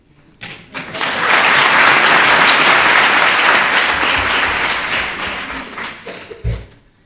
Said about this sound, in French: applaudissements mérités et largement mérités.